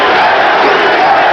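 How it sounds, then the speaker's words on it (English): Loud, dense roar of a boxing crowd on its feet in the final round of Wilfredo Benitez versus Carlos Palomino, a sustained wall of shouting and chanting that fills the moment without a break. "Crowd now won't stay down. One by one, row by row, they stand and start that chant."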